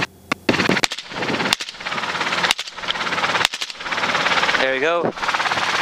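Rapid machine-gun bursts fired from a helicopter during an aerial hog hunt, loud and close over the steady rotor and engine drone, with brief pauses between bursts and someone speaking briefly.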